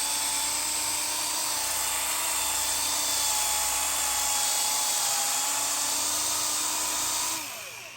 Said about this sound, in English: I'm just going to keep going over it one more time there